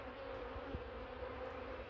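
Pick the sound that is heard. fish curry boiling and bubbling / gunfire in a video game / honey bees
honey bees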